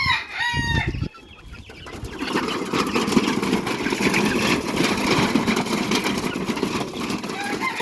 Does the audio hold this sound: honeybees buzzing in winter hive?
no